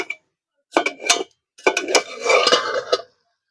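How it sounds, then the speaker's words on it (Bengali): A metal lid lifted off a cooking pot, with two short bursts of clattering metal, a clink then a longer rattle and scrape, close and loud against silence. "এই ঢাকাটা খুলে একটু দেখি কেমন হলো।"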